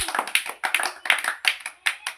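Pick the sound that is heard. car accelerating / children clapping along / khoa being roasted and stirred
children clapping along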